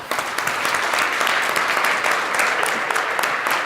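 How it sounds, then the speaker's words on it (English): Dense, continuous audience applause at the VR NOW Con 2017 tech rally, heard as an even wash of many hands clapping at steady loudness throughout. "Applause."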